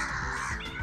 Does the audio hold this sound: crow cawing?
yes